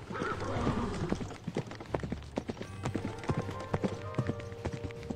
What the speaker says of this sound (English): You should hear the horse and should go from left to right.